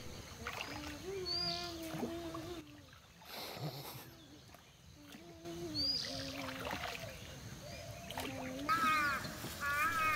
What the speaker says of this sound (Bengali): রিপা এখানে থাকা নৌকাটি চালিয়ে দেখছে